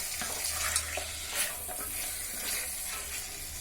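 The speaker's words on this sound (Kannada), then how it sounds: "ಇದೇ ಚಿಕನ್ ಚೆನ್ನಾಗಿ ಫ್ರೈ ಆಗುತ್ತಲ್ವ, ಅದು ನೀರು ಬಿಟ್ಕೋಬೇಕು" Chicken with methi and green chilli sizzling and frying in a pan while being stirred, a steady close hiss broken by soft scraping strokes of the spoon, with no talking.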